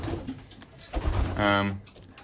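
Pigeons coo in low, throaty bursts at close range inside a crowded pigeon loft, with shuffling and faint tapping sounds around them.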